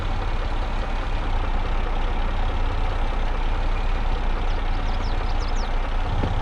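An old truck, an engine called Hank, rumbles steadily as it pulls away, a loud, constant low-heavy drone with faint squeaks near the end and no talking.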